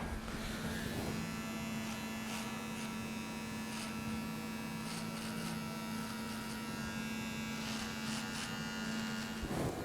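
An electric hair clipper trims and cleans up beard edges with a steady, close buzzing hum that runs unbroken through the whole stretch, with no talking.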